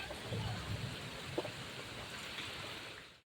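Soft, steady rainfall with a continuous hiss and faint pattering, fading out at the very end.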